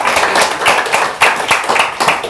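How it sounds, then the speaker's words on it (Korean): Close, loud rhythmic clapping from an audience welcoming a speaker at a lecture, with evenly spaced hand claps continuing throughout. "박수로 환영하겠습니다."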